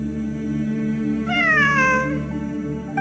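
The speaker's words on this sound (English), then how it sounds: "It really is a cat." A cat in the Genshin Impact video game gives a single clear, drawn-out meow over a steady tonal background hum, close and prominent, with a faint click at the end.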